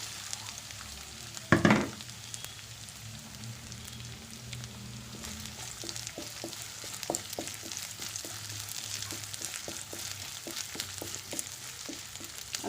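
Sliced onions with crushed garlic hiss steadily in a pan while cooking soya chunks, with a sharp clatter as they drop in early, then a faint continuous sizzle under scattered small crackles and pops.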